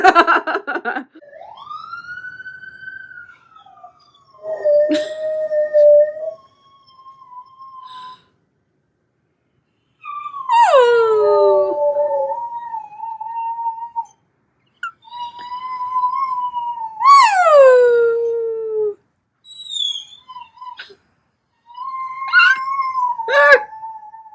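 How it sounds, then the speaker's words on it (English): A dog howls at a passing siren in long, wavering, rising and falling cries, repeated several times with short pauses, loud and close. "sometimes Batman likes to howl when sirens go by."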